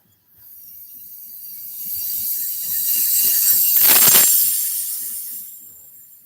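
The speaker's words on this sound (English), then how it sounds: "That's definitely a long train." A long rail train rumbles past at Thurmond, West Virginia, swelling to a loud broadband roar in the middle, then fading away, with faint mechanical clatter throughout.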